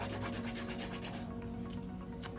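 Close, steady rasping of a 100 grit hand file working over an acrylic nail on curve tips, a continuous rhythmic rubbing with no talk.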